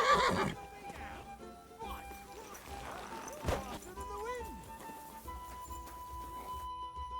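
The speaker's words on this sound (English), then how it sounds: "Is Hurtle really your best horse" Horse neighing in the medieval game Kingdom Come: Deliverance II, a few whinnies with hoof clatter amid in-game voices and ambient sound, fairly close and moderately loud.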